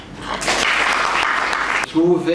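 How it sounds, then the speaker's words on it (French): Audience at a debate in Kinshasa breaking into brief applause, a dense burst of clapping that cuts off abruptly, followed by someone speaking. "Vous devrez applaudir cela."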